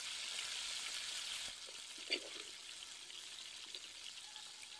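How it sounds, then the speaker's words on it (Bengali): Cauliflower and potato fry in oil left from frying fish, giving a soft, continuous sizzle with one brief clatter, close and low in level. "মাছ ভাজা তেলে ফুলকপি আলু ভেজে নেব।"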